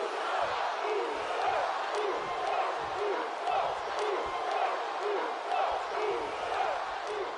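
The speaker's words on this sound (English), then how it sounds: "The crowd loves this version of Jey Uso, maybe even as much as the real thing" An arena crowd in the WWE 2K25 wrestling video game cheers for Jey Uso, a steady dense roar with rhythmic chanting swells and no pauses.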